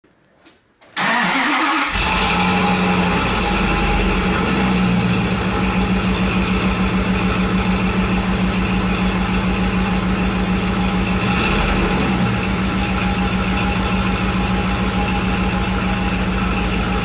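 A Dodge Ram truck's engine cranks briefly, catches and settles into a loud, steady idle close by, humming evenly with no talk.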